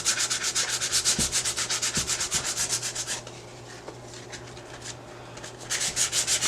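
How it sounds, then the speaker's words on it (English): Rhythmic back-and-forth rasping of 80 grit sandpaper on plaster, strokes steady and close, pausing briefly midway to a softer scuffing before resuming the brisk rubbing. "if you're trying to sand the plaster while it's kind of wet"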